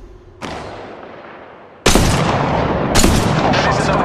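Loud gunfire in Apex Legends Mobile: a single sharp shot, then after a pause a heavy burst of rapid shots continuing to the end, close and dominant with no talking.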